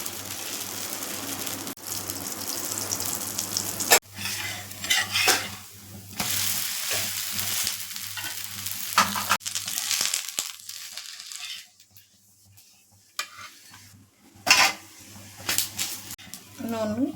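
Dosa batter sizzles as it is poured onto a hot pan, with steady frying hiss, scraping and stirring sounds, then a short quiet pause before the sizzle returns.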